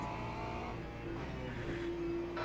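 GT3 race car engine at Circuit de la Sarthe in the Le Mans Ultimate sim, a low steady drone with a rising tonal note near the end, heard alone at moderate, somewhat distant level.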